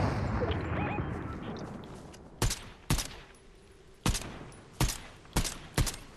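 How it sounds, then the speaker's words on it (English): Gunfire in the video game Fortnite: five or six sharp, loud shots arrive in an irregular sequence, heard alone over a rushing background ambience. "The other guy's shooting at us."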